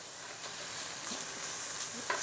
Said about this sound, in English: So we're just going to let these caramelize and get as much sugar out of the vegetables as we can